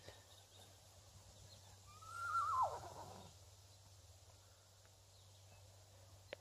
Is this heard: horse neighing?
yes